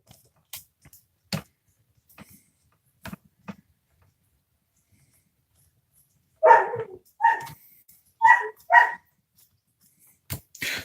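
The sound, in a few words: German Shepherd dog barking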